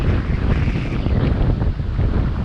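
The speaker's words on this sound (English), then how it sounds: "They were saying in the news the windy conditions" Strong wind buffets the microphone in loud, continuous gusts, a heavy low roar with water and boat noise faintly underneath.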